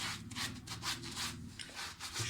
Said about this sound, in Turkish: pas lekelerini çıkarmaya çalışıyorum